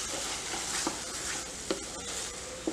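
Paneer masala curry is stirred in a pan, giving a continuous soft sizzle with three brief scrapes of the spoon against the pan spaced about a second apart; no voices.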